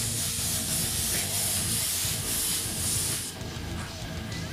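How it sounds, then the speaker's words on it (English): Spray paint hisses from an old, worn nozzle, a continuous bright airy spray held steady at close range and then dropping off near the end. "You see the difference of the spray."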